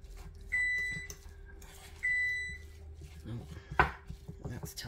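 A kitchen oven gives two separate electronic beeps about a second and a half apart, each a clear steady tone that decays away, followed by kitchen clatter and a sharp knock.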